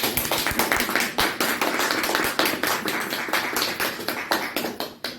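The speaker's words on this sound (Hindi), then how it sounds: "भाई साहब के लिए तालियां बजाएं" An audience at a company basic training session claps together, a dense run of sharp hand claps that keeps up evenly for about five seconds.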